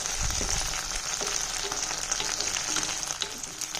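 Thuthuvalai leaves sauté in a hot pan, a steady close sizzle with faint scraping, continuous and fairly even throughout.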